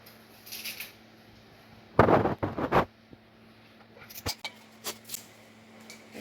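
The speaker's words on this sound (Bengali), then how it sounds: "পালং শাক কুটে নিতে আসি।" A knife chops fresh spinach on a board for a shrimp curry, giving a dense burst of close, sharp cuts followed by scattered lighter taps against a quiet kitchen background.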